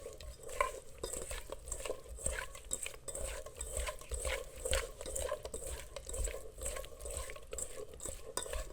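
Tofu is stirred with hamburger deluxe seasoning, giving a continuous, quiet, busy mixing sound with soft clicks and scrapes of a utensil against a dish, close and steady.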